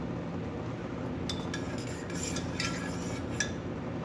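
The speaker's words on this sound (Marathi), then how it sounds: "आता आपण याला मिक्स करून घेऊया." A spoon stirs lemon sharbat in a glass, giving light scraping swirls and a few sharp clinks against the rim over a soft steady background hiss; there is no talking.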